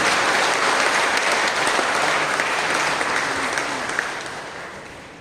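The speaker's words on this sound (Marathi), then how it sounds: "जोरात टाळ्या वाजवून आपण पवित्र आत्म्याला धन्यवाद देऊ" A church congregation at a Friday prayer service claps loudly together, a dense continuous burst of applause from a crowd that holds steady and then fades toward the end.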